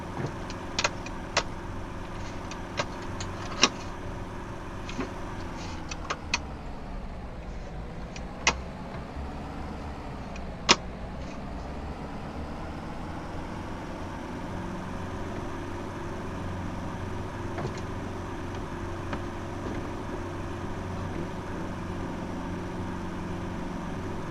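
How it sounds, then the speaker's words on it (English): A loud tractor in Farming Simulator 2025 drones steadily with a low, even engine hum throughout, dotted with occasional faint clicks and knocks. "It is a nice tractor though, to be fair. It's quite loud, but it's nice."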